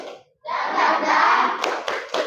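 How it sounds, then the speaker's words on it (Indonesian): In a classroom teaching assessment, a standing group shouts together and then claps a few sharp beats in a cheer rhythm; the voices are loud and close. "Tepuk semangat."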